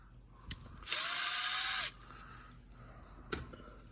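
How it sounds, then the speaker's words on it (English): A power drill bores into the rear main seal of a Mercedes S55 AMG, one loud, steady whine lasting about a second, with a few sharp metallic clanks before and after in a quiet garage. "the goal is you drill into the seal with this"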